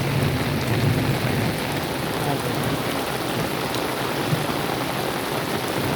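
Heavy rain pours down steadily in Punjab, a loud, dense, unbroken hiss of drops hammering surfaces, heard alone without talk.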